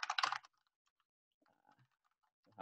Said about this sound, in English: I'll have to bear with my bad typing.